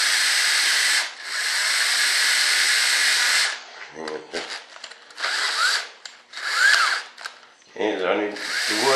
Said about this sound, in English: I need to put some holes through this wood and the flange.